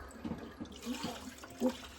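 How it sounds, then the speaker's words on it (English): Water pours and splashes into the filter box of a newly set-up home fish tank in short, uneven gushes, close and fairly soft, with no talk. "So fill the box full of water."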